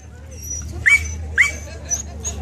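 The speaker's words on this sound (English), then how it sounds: "That dog wants to move." A dog at a neighborhood night-out gathering whimpers in a few short, high yips spaced about half a second apart, close by, over a low background rumble.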